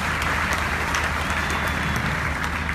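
Church congregation hand clapping during a worship service, a dense continuous wash of many hands clapping together under steady background noise, loud and sustained without speech.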